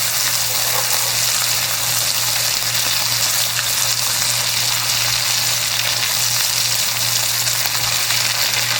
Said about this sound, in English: I just get the shrimp mixed around with the butter a little bit.